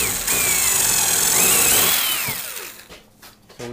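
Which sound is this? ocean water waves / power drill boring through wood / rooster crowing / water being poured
power drill boring through wood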